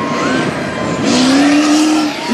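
A maxed-out Duramax mega truck roars at a Texas mega truck race, a loud, close engine howl whose pitch climbs steadily, briefly dips, then surges again.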